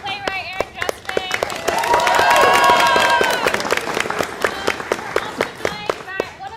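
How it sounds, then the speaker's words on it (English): Audience applause for a playwright at a new-works theatre festival, dense clapping that swells to a full roar mid-clip then thins into scattered individual claps toward the end. "another big round of applause for our playwright"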